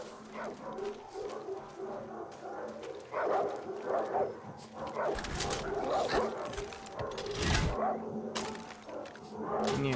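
Dogs barking and yipping during a fight in the video game Far Cry 6: repeated sharp barks and whimpers, growing denser and louder in the second half, with growls and a roaring animal mixed in.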